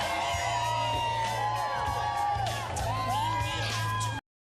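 A large outdoor crowd cheers, whoops and yells on an early fall morning in Manhattan at a live morning show, a steady dense roar held for several seconds before cutting off abruptly.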